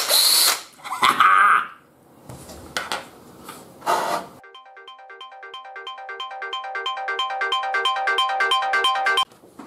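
A power drill bores 1 cm holes in wood, whirring in short bursts, then running in a long rising whine with a rapid pulsing rhythm before stopping abruptly.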